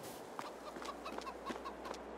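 Chickens in Farming Simulator 22 cluck in a quick run of short, soft bursts over a constant low background hum.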